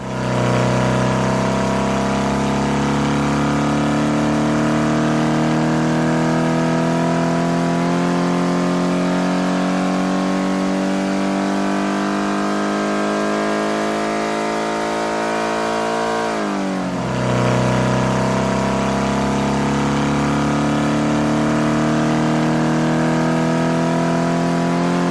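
A Ford Pinto engine with split 48 Weber carburetors runs on a dyno, droning loud and continuous as revs climb steadily, then drops sharply and rises again.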